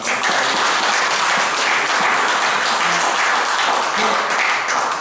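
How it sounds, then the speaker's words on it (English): An audience in a council chamber claps loudly and continuously, a dense, steady round of applause with scattered voices underneath. "I'm giving her a round of applause."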